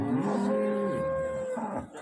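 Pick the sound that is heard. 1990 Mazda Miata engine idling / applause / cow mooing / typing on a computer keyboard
cow mooing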